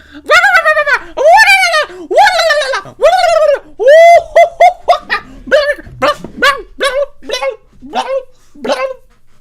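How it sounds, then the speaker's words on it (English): A dog barks excitedly in a long rapid series of loud, close, yelping barks that quicken and grow shorter toward the end. "This dog is freaking the hell out."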